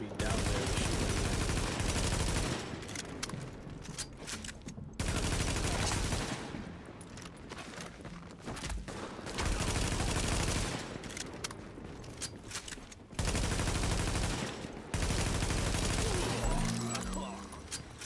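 Bursts of automatic gunfire from the PC shooter The Division come in repeated loud volleys of a few seconds each, separated by shorter lulls with game sounds and voices.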